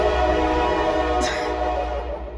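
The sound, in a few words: train passing a train station, horn sounding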